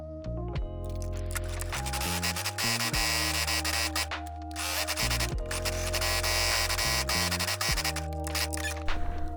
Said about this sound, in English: we're going to sew the middle of the seam we just made.